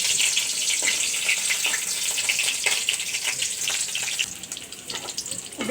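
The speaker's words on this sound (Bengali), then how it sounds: "এখন আমি চিংড়ি মাছটা ভেজে নেব" Shrimp frying in mustard oil in a pan, following dried red chillies: a steady, close crackling sizzle with bright spattering runs the whole time, easing slightly toward the end, with no voices.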